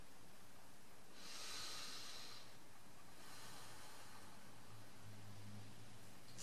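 Deep inhalation through the nose during an EFT tapping session, a soft airy hiss rising and then fading against a quiet background hum, with no talk.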